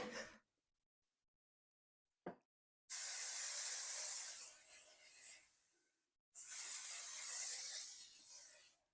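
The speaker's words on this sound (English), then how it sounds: "All right, I'm going to spray." Two long hissing bursts of aerosol cooking spray, each a few seconds, with a short pause between, close and fairly loud after a couple of faint taps, while preparing an air fryer.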